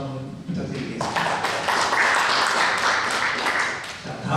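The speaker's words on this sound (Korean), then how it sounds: "토론해 주신 이일이 센터장님한테 다시 한번 박수 한번 부탁드리겠습니다" Audience applause at a Korean cooperative launch ceremony and policy forum, a dense wash of clapping that swells after about a second and carries steadily to the end, with a speaking voice likely mixed in.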